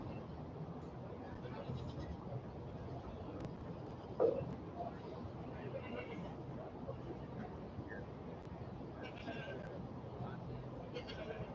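Goats bleat faintly at a dairy goat show ring, with a single clearer bleat among distant calls under a steady crowd and hall murmur.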